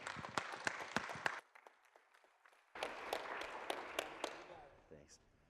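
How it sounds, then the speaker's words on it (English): An audience at a morning business presentation claps to welcome a speaker, a short burst of applause that cuts off, then resumes in a second burst, with voices mixed in. "Big round of applause."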